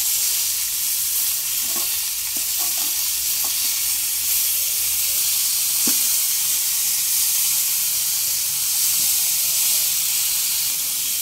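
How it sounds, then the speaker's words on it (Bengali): Chicken tikka sizzles in a grill pan over a high flame, a steady, loud hiss of frying with scattered small pops and crackles throughout, and no voices. "আমি গ্রিল প্যানের মধ্যেই চিকেন টিক্কাটা বানিয়ে নিচ্ছি।"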